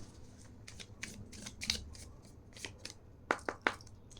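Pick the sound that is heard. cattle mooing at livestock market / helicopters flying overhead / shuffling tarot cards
shuffling tarot cards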